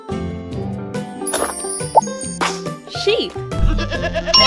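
A cartoon sheep bleat from a children's English-learning game for toddlers, heard alongside jingly background music and chimes, fairly loud and close.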